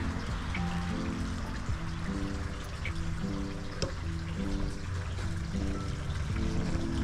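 Tap water trickles and splashes steadily while an item is washed during a garden tea party setup, a close, moderately quiet stream running throughout with small clinks of dishes.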